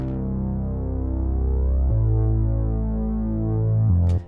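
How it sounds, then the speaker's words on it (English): Analog-style 70s classic synth bass patch from Logic's Alchemy, holding a deep sustained root note with a steady throbbing low hum that shifts pitch once near the middle and again just before the end, loud and alone. "I've used the 70s classic synth bass"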